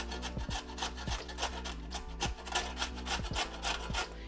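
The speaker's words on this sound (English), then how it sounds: "I'm gonna take the grater on this larger side and just carefully grate my carrot" A carrot rubbed down the large holes of a hand grater, giving a steady run of close, rasping scrapes in a quick back-and-forth rhythm with no talking.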